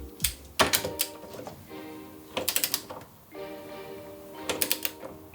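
Ratchet clicking in three separate bursts while transmission mount bolts are tightened on the crossmember of a BMW E30 with an M20 engine, with quiet pauses between the bursts and no talk.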